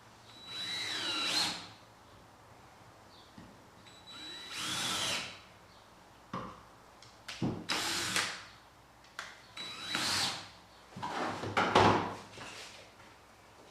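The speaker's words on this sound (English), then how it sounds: "and we'll pre-drill." A power drill pre-drills screw holes while an exposure unit is built, sounding in about six separate bursts of whirring, each lasting around a second, with short clunks and knocks between them. The bursts are close and loud, and no one speaks.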